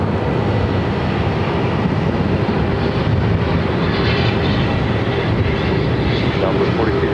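An airliner on visual approach to runway 26 at Phoenix fills the cabin with a loud, steady engine roar and rushing air that continues throughout.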